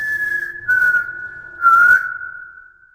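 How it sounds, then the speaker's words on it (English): A person whistles a long, steady, close tone that slides slightly in pitch, broken by two short breathy rushes before fading out. "I whistle first."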